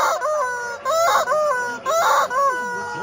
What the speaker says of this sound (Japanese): これさっき言ってたね、あのシャウティングチキンですね。